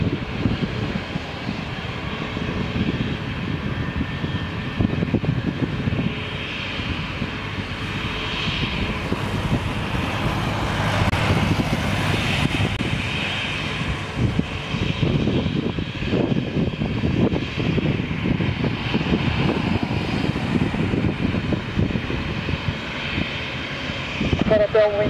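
An airliner takes off from runway 03 at Lisbon airport, its engines giving a steady broad roar that holds for the whole stretch, with air traffic control radio chatter faintly over it.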